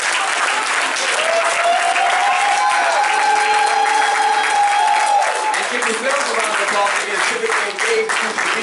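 Loud, sustained applause from a crowd at a political debate, cheering the candidates on stage, steady and close for several seconds, with a few raised voices and whoops mixed in.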